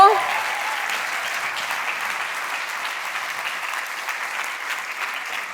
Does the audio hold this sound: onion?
no